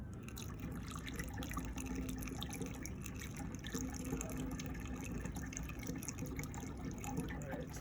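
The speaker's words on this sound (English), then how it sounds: "I'm going to pour my priming solution" Priming solution pours steadily into home-brewed India Pale Ale, a continuous soft liquid splash and trickle at low volume, unbroken for several seconds.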